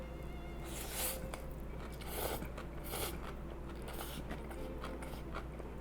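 Someone eating bibim noodles dressed with Tabasco sauce, with close, steady slurping and wet chewing that crunches and squishes in irregular bursts through the whole stretch, no talking.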